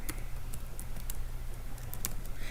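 Keys tapped on a Windows 10 laptop keyboard while typing into the Cortana search box, a quick irregular run of light clicks over a steady low hum, close and alone with no talk.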